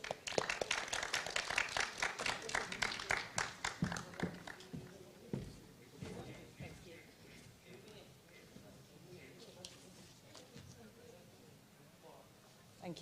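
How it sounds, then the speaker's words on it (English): An audience at a climate conference session applauds to welcome a speaker, with dense clapping at the start that thins out and fades into quieter scattered sounds, heard faintly from a distance. "Please welcome her with a round of applause."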